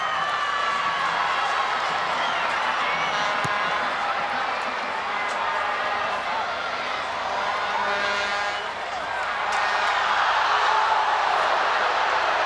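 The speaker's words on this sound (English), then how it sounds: "This crowd getting increasingly irate with every call that goes against Canada." A football stadium crowd at a women's U-19 World Cup semifinal between Canada and Brazil roars and hollers angrily at a referee's decision, a dense, continuous wall of voices that swells slightly toward the end.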